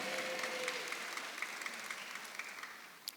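A church congregation at a Sunday afternoon worship service claps together, the applause soft and somewhat distant, steady for a few seconds with scattered sharper claps.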